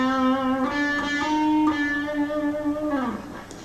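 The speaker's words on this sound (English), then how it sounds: "so much more subtle vibrato there" An electric guitar holds a single note with gentle, subtle vibrato, bending slightly before the pitch slides down as it fades. The note is close and clear, with no talking.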